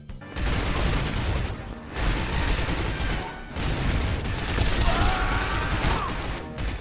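Gunfire and crashing impacts from the video game 007: From Russia With Love, heard as loud, dense, continuous bursts of shooting and smashing with brief dips between volleys, with no talking.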